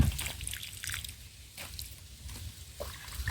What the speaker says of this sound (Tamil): அப்படியே கொஞ்சம் கொஞ்சம் ஊற்றிட்டே வந்துடலாம்